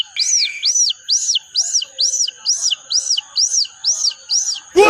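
A person imitates a baby chick's chirping with about ten rapid, evenly spaced high-pitched peeps, loud and close, with no other sound around them.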